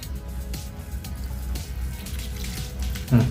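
Water is poured into a brinjal curry in a cooking pot, a steady close pour over a low bubbling simmer that ends in a brief louder splash.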